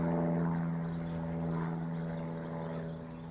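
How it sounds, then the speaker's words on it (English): A propeller aeroplane drones overhead above a spring garden, a steady low engine hum that fades slightly toward the end, with no talking. "Oops, there goes an aeroplane, noisy."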